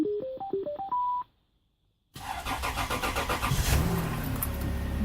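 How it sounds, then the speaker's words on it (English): A Toyota 3.4-litre V6 5VZ-FE engine, fresh from a timing belt job, cranks and catches after a short silence, then settles into a loud, close, rough idle with a pulsing rhythm, preceded by a run of rising electronic beeps. "I'll just fire it up and make sure nothing goes clunk."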